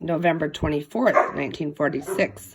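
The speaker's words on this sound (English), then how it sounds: "Excuse my dogs. They're playing." Pet puppies barking and yipping while playing and fighting over a bone, several sharp close barks mixed with whimpers under a woman's continuous speech.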